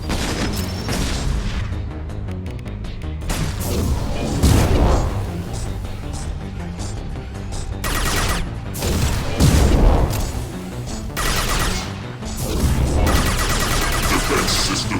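Heavy combat gunfire in Mass Effect 2 on Insanity difficulty, dense loud shots and booming impacts layered with music and game voices, swelling into several heavy explosive hits over fifteen seconds.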